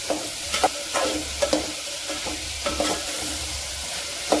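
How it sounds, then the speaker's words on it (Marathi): Tender green bean pods are stirred through a hot tempering in a pan, with a spatula scraping in an uneven rhythm over a soft, steady sizzle, close and alone. "फोडणी टाकल्यानंतर याला छान फोडणीमध्ये मिक्स करून घ्यायचं आहे ह्या अशा पद्धतीने"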